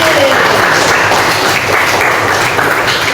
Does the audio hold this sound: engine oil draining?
no